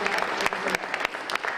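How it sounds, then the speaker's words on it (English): An audience claps steadily in a dense burst of applause, close and loud throughout. "let's give her a big round of applause."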